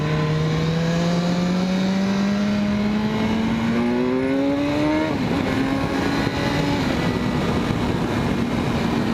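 A 2015 BMW S1000R motorcycle engine roars loud and close while riding, its tone climbing steadily through the revs before a gear change and a settled drone, over constant wind rush.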